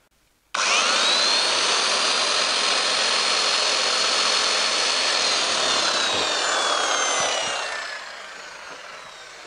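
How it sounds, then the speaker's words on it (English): A power drill starts abruptly and whines steadily at high speed for several seconds, spinning an unpowered inductive generator, its pitch drifting slightly before it winds down. "I'm going to use an electric drill this time to make it more consistent"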